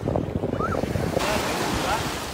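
Sea waves wash onto a pebbly Mediterranean beach under a steady roar of surf and gusting wind noise on the microphone, constant and fairly close with no voices.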